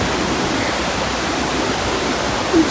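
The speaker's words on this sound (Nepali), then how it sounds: "पानी सबभन्दा नजिकैको खोला यो चाहिँ" A mountain stream rushes along the Langtang Gosaikunda trek, giving a steady, dense wash of flowing water close by with no talking.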